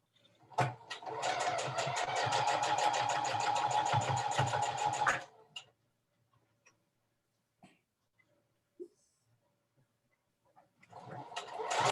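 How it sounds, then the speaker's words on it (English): A sewing machine stitches quilt block seams in a loud, fast, continuous whir for about five seconds and then stops. Quiet handling clicks follow, and the machine starts up again at the end. "Okay, and I'm just going to nest those seams and I'm going to stitch again."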